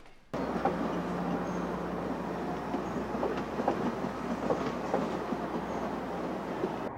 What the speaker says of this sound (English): Behind the station, a local backs off its freight cars into a siding.